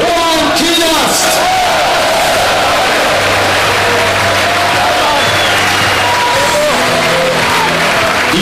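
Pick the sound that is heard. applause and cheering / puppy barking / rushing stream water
applause and cheering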